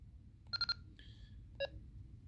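Keypad beeps sound as a latitude is entered on a Kenwood D74 radio: three quick tones, then a longer tone and one final beep, clear and close against a quiet low hum.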